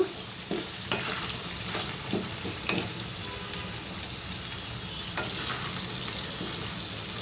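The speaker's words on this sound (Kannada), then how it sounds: "ಎಣ್ಣೆಯಲ್ಲಿ ಅದು ಕೂಡ ಚೆನ್ನಾಗಿ ಕಲಿಸ್ತಾ ಇರಬೇಕು" Ivy gourd pickle sizzles steadily as it fries in oil, with repeated scraping and clinking stirs of a spoon against the pan, close and continuous with no talking.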